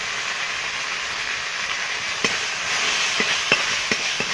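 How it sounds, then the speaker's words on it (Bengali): Spice paste with salt and turmeric stir-fries in a pan for a pangas fish and potato curry: a steady hissing sizzle broken by a few sharp spatula scrapes and taps near the end. "মশলাটা আমি একটু ভালো করে কষিয়ে নেব"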